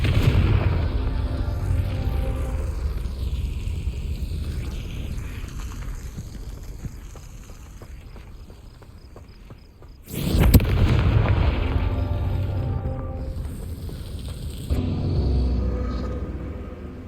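Confringo fire spell blasts in Hogwarts Legacy, with a loud booming burst that rumbles and fades, then another explosion and a further impact. The sound is dense and continuous, with no talking.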